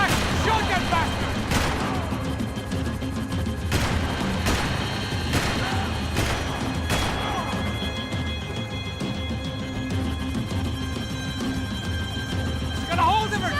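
Gunfire in the shooter game Max Payne 3 cracks out as sharp, scattered shots over a dense, loud backdrop of game noise and shouting voices, the bursts irregular across the stretch.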